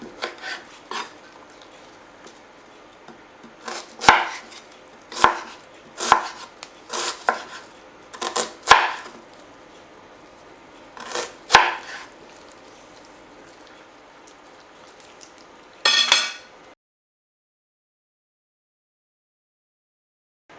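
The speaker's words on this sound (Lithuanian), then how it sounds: "Svogūną pjaustume stambiai." Close, crisp knife strikes as an onion is chopped into large pieces on a board, arriving in irregular clusters with a slight wet crunch, then stopping abruptly into silence.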